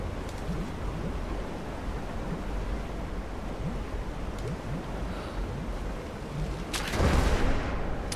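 A rumbling, noisy wash of booms from the video game Rise of the Tomb Raider, ending in a louder burst of explosion in water with spraying water near the end.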